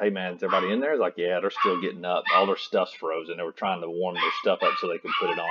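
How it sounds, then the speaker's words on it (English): Several household dogs bark in the background while someone talks steadily over them, the barking partly buried under his voice. "Excuse my dogs barking."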